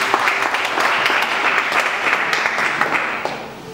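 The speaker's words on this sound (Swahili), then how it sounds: "Shangilie Bwana Yesu kwa makofi." A church congregation claps together in praise during a sermon, a dense, lively burst of applause filling the room before it starts to die away near the end.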